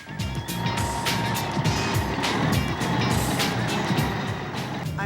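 A 10-wheel dump truck reverses nearby with steady repeating backup beeps over a continuous engine rumble, loud and close throughout.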